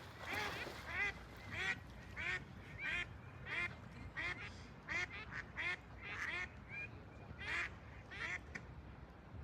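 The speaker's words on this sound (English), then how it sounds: "look at those ducks defending their kids." Ducks quack repeatedly in short, uneven bursts as they defend their ducklings, heard faintly at a middle distance over a quiet outdoor background.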